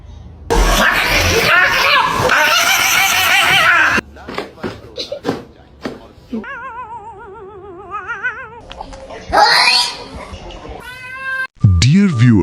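A kitten meows in several clear, wavering cries at close range, mixed with loud rustling, scuffling noises and other brief animal sounds.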